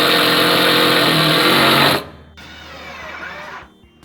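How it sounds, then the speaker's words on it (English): A circular saw fitted with a metal cutting disc cuts loudly and steadily for about two seconds, then drops away. A quieter whine follows as the blade spins down. "I'm going to be using my circular saw with a metal cutting disc"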